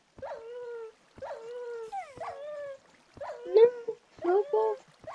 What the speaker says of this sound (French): Il est stupide ce chien.